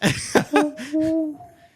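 A person imitates an owl with their voice, making a few breathy sounds and then two or three drawn-out, wavering hoots that fade away. No one talks.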